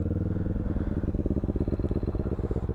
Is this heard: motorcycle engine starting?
yes